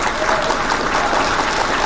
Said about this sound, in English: we can hit the claps for mom